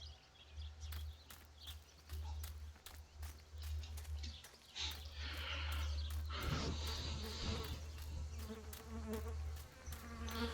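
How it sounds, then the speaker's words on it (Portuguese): Flies buzz close by in the horror game Martha Is Dead, a droning hum that wavers in loudness over a low ambient rumble, with sharp ticking clicks punctuating it. "Estou escutando um barulho de moscas e nunca é um bom sinal,"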